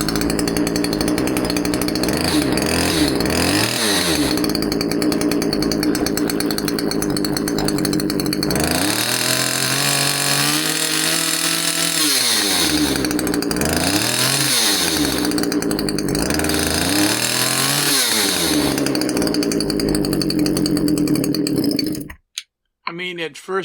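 A Husqvarna 338XPT chainsaw with a nylon mesh air filter runs loud and close, its engine revving up and dropping repeatedly in uneven surges before bogging out and cutting off near the end.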